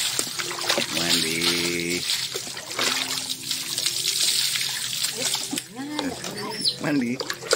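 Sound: water pouring during a pet's bath

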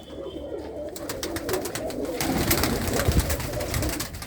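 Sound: pigeon cooing

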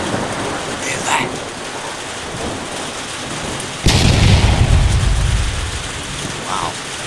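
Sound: thunderstorm with rain

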